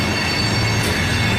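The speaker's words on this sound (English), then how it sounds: "And you're hearing the train over there." A train passes through downtown Dallas, a steady loud rumble of wheels on rails with a faint squeal, heard without talk.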